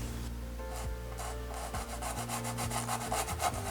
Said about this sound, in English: add just a little bit more and just kind of rub it in